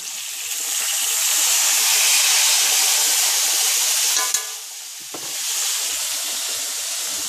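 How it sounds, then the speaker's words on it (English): Hamburger gravy sizzles steadily in a cast iron skillet as it is stirred, a loud, even frying hiss with a brief scrape and a slight dip near the end. "And you just keep stirring it until the flour is all absorbed"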